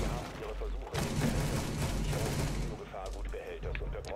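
Gunfire in Rainbow Six Siege, a close, loud burst of rapid shots in a cluttered stretch lasting a few seconds, with sharp cracks near the end and talk underneath.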